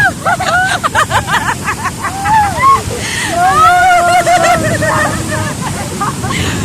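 Sea water sloshing and splashing at Aivoji Beach in Coconut Village, Badagry, a steady wash of surf running beneath people talking nearby throughout.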